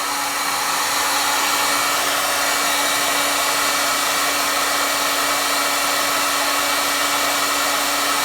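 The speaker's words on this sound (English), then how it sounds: "I've just been applying heat with my heat gun, of course blasting it away from the plastic parts to heat this up" A heat gun blows steadily and loudly throughout, a continuous airy roar with a faint hum as it heats the tone arm collar of a Dual 1214 automatic record changer during repair.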